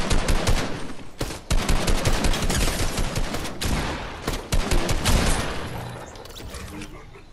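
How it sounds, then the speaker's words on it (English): Rapid gunfire in the Fortnite video game: loud, dense bursts of automatic shots that fire almost continuously, broken by a few short gaps, with no talking heard. "Where am I getting shot?"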